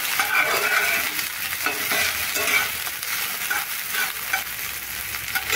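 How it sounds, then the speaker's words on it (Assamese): Vegetables for poha fry in a pan with a steady close crackling sizzle and stirring scrapes, with no voice. "সবজিখিনি অকণমান ৰঙা হোৱালৈকে ভাজোঁ।"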